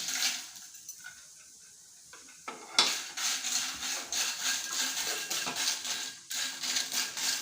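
Dry red chillies roasting in oil in a pan for Brahmin-style raw mango chutney: a steady close scrape and rustle of stirring with a soft frying hiss, starting quietly and then continuing at an even level.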